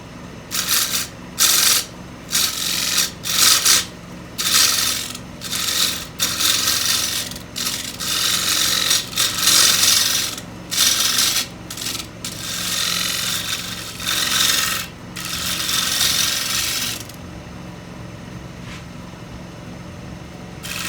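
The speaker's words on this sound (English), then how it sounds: "1/2 inch gouge." A half-inch gouge cuts into wood in loud, rasping strokes with short pauses between them, then falls to a quieter hum near the end.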